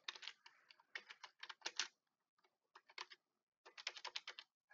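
Bursts of typing on a computer keyboard, fast clattering key presses in several quick runs separated by short pauses, close and fairly quiet with no talking.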